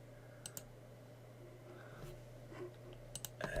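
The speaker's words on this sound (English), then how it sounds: "remove, click apply, click OK" Mouse clicks at a computer while working through a Windows Server dialog, a few faint, sharp clicks in small pairs over a steady electrical hum, with no talking.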